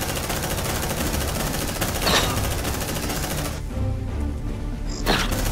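Squad gunfire in the Aliens: Dark Descent video game: a dense, continuous burst of automatic fire with sharp crackling shots, loud and close, running almost the whole time before briefly thinning out and then resuming.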